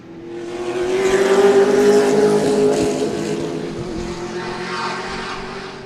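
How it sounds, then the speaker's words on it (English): Toyota race cars roar past on the Sebring circuit during a winter race, a loud sustained engine drone with rising and falling pitch as they pass close by, fading slightly toward the end. "There's the two Toyotas."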